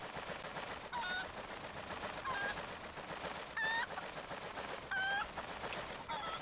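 A chicken in the video game The Legend of Zelda: Twilight Princess clucks and squawks in short, pitched bursts, repeating about every second over a steady background of game ambience.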